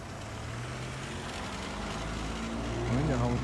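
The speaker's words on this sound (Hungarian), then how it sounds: "Itt elmennek az autók" Cars passing along a street in Piroskaváros, Csongrád, heard as a steady low rumble of traffic that grows slightly louder near the end as a vehicle comes closer.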